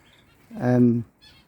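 Lovebirds in an aviary let out a single short, loud, honking call that lasts under a second, with faint chirps around it.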